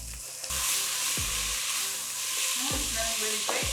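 Vegetables sizzling in a pot on high heat, a loud continuous fry with several spoon or spatula scrapes as they are stirred, close by and free of talk.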